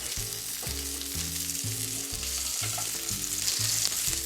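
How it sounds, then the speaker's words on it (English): A steak sears in a hot pan, giving a steady close sizzle that runs throughout beneath prominent background music. "So we'll continue to cook this steak here on this side for another minute and a half or so, just until we get a nice sear."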